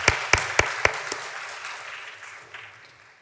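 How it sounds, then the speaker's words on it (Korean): During a Sunday service at a Korean church, a few sharp, loud hand claps ring out in quick succession and then trail off into a soft, fading patter that rings in the reverberant sanctuary. "우리 예배를 받아주신 하나님께도 우리의 박수 올려드리겠습니다"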